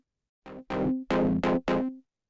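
A synth run through a compressor setting that makes it crunchy and distorted plays five short, punchy, gritty notes in a quick sequence, dry and up close.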